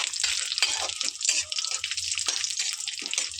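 Whole spices and cashews, clove, cardamom, cinnamon, star anise, bay leaf and shahi jeera, crackle and fizz in hot oil for tomato rice, a steady close sizzle with soft clicks and sputters throughout, no talking.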